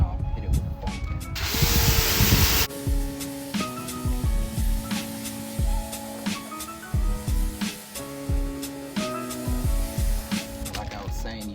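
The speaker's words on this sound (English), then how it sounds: "Like I said, this pressure washer isn't very loud." A quiet pressure washer rinsing a Dodge Charger, heard as a steady hissing spray for a couple of seconds, then intermittent knocking and rumbling sounds.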